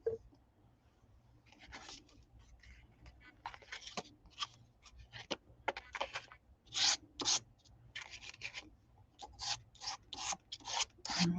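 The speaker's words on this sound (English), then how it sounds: "So I might just have to rub that in with my finger." A fingertip rubbing material into a deep recess, heard as soft, close, irregular scratchy rubbing strokes, quiet and alone.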